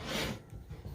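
A silicone handle sliding onto a Lodge cast iron pan gives a soft rubbing rasp, brief and close, followed by faint light scuffing.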